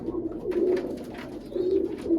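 Domestic pigeons kept with their young give low, throaty coos, two drawn-out rolls close by with no voices over them.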